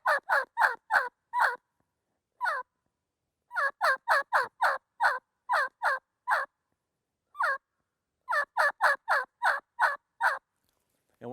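A turkey call imitates young jake turkeys cackling, giving clusters of sharp, raspy yelps that start fast and tumble on in irregular bursts with short pauses, close and alone.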